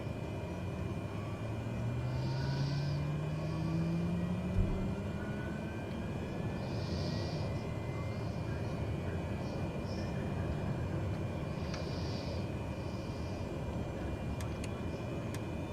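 A Diamond DA40NG engine starts up in a flight simulator game, with a low rising whine early on under a steady, droning hum that continues for about sixteen seconds.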